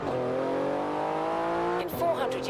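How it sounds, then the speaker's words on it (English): A car driving past in the video game Forza Horizon 4 in rainy weather, a close, loud engine drone whose pitch climbs steadily before cutting off abruptly near the end. "there goes a car"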